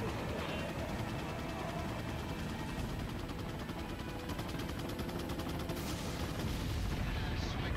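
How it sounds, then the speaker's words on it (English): Dense gunfire and explosions in Resident Evil 4 form a continuous, loud barrage of bursts and booms, rattling steadily throughout with a voice mixed in. "Who the hell's shooting at my ass?"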